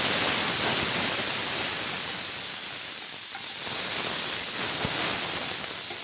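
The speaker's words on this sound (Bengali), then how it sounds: "তার জন্য একটুখানি মৌরি সামান্য একটু তেলের মধ্যে ফোড়ন দিয়ে দেবো আর দিয়ে দেবো তেজপাতা এবারে দিয়ে দেবো টমেটো" Tomatoes frying in a little oil with fennel seeds and a bay leaf, a steady close hiss of sizzling that holds throughout without talk.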